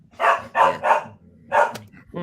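A dog barks close and fairly loud in a quick run of about four or five sharp barks in two bursts, with a brief pause between, heard on its own without talk.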